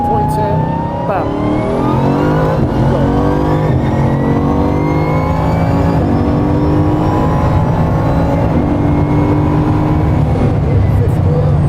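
A race car accelerates hard through a long corner on a track, its loud, close engine note climbing steadily and continuously for the whole stretch.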